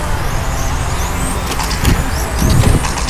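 A GT2 race car's engine roars steadily past on a track straightaway, a continuous loud motor drone with a rising swell near the end and no talk.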